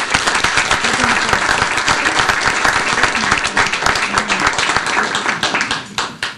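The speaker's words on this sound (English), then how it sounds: "Can we give him a round of applause?" An audience at a Prince George's County gathering gives the Senate President loud, vigorous applause. The clapping stays dense and sustained for several seconds before thinning toward the end.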